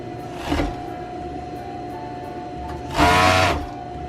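A sewing machine stitches a pajama crotch seam in two short bursts of whirring motor. The first is brief and softer, and the second is louder and runs about half a second, with quiet room hum between them and no talk.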